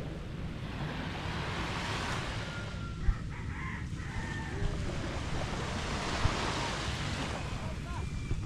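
Sea waves washing onto a beach shore, a continuous distant surf roar, with a rooster crowing faintly in the background and people talking quietly nearby.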